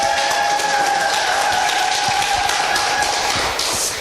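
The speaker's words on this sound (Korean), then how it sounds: "지금 방금 박수 쳐주신 분들 계시죠?" Seminar audience applauding, a continuous wash of clapping from a crowded room that holds steady throughout, with a faint tonal hum beneath.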